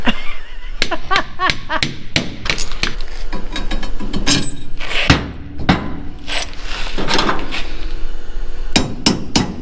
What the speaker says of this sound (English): There's a little hammer.